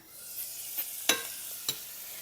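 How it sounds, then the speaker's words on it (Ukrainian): Vegetables fry in a pan while being stirred, a steady sizzle throughout with a few sharp scraping clicks from the utensil, close and without talk. "Буду ось так от смажити, щоб вам було видно."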